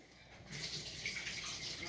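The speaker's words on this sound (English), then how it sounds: "So I'm gonna pour the water off of it." Water is poured off soaked raw potatoes into a kitchen sink during beef stew preparation, a soft steady gushing splash that starts about a third of the way in and continues faintly to the end.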